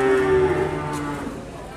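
A single cow moos nearby, a drawn-out low call that slowly fades, with faint wind noise behind it.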